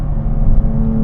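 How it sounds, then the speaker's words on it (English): Nissan Z Nismo exhaust, a loud, close, steady low droning rumble with a slight rise in the middle, heard alone for about a second. "the exhaust definitely sounds nice"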